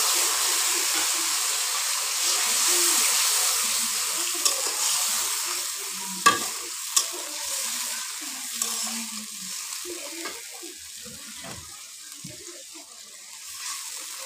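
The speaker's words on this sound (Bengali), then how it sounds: "মশলাগুলো ভালো করে ভেজে নেব।" Cumin, onion and ginger paste, ground on a grinding stone, frying with chopped onion in a pan for lentil dal, a steady close sizzle with stirring and a few sharp utensil clicks.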